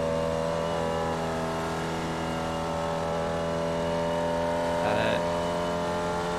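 A Formula Vee race car engine in iRacing at Summit Point holds a steady, droning pitch at close range through the whole stretch, with a brief brighter rise near the end.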